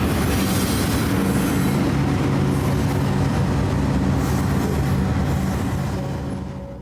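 A Union Pacific freight train with mid-train DPU locomotives rumbles past up close, a steady loud roll of wheels and engine drone that eases slightly at the end.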